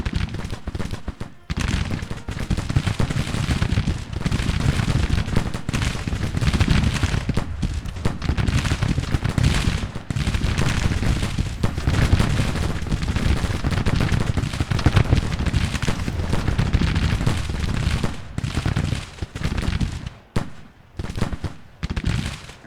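Musket volleys crackle continuously across a Civil War battlefield in Grand Tactician: The Civil War, a dense rolling fusillade of overlapping shots, loud and sustained before thinning out near the end.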